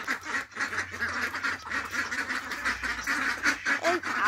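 Ducks quack and call continuously outdoors by a broken-down house, a dense overlapping chorus of nasal quacks at moderate loudness with no talk.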